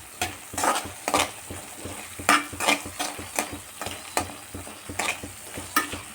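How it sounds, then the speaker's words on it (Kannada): Okra frying in a kadai for gojju, with a spatula stirring and scraping in steady, repeated strokes over a continuous close sizzle. "ಈ ಥರ ಚೆನ್ನಾಗಿ ಹುರ್ಕೋಬೇಕು ಇದು ಬಾಣಲೆಯಲ್ಲಿ."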